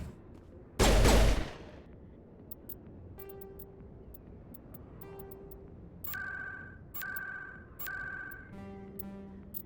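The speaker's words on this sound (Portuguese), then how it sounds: "O tiro é alto." A single loud, sharp gunshot blast in the video game Mass Effect rings out near the start, followed by a quieter run of electronic beeps and tones with no talking.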